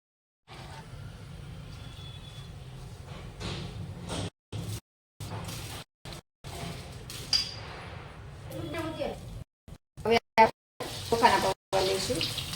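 Poha fries in oil for Diwali namkeen with a soft, crackling sizzle under a speaking voice, cut by several abrupt silent gaps.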